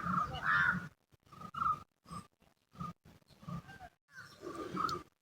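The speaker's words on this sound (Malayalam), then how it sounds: "അതുപോലെ മയിലിൻ്റെ ശബ്ദം കേൾക്കാണ്ട്" A peacock calls from a rocky hilltop with rounded boulders, sending out a series of short, loud, nasal bursts separated by brief pauses, with no talking.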